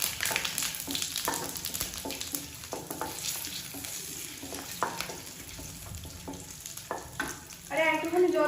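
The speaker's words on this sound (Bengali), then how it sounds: "জিরেগুলো একটুখানি ভাজা হয়ে গেছে" Whole cumin seeds crackling in hot oil with dried red chilli and bay leaf, a close, moderately quiet sizzle with irregular spits and pops, and a brief tonal sound near the end.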